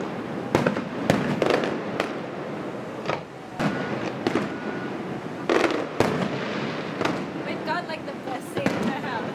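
Fireworks explode over Honolulu in a rapid run of sharp, loud bursts and crackles, with voices chatting nearby between the blasts.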